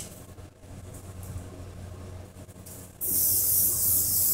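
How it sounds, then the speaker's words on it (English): A loud hissing spray from an aerosol can of anti-frizz hair spray starts abruptly after a quieter stretch of background noise and continues steadily. "I'll spray a little bit more anti-dandruff, no anti-frizz"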